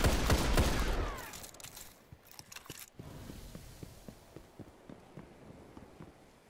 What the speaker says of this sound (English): I'm gonna see if I can shoot some of these people. Shoot in circles and see if I get a hit more.